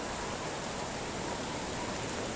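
Steady rain falling in the Medieval Dynasty game world, a constant even hiss of water with no breaks, moderately loud and unaccompanied by talk.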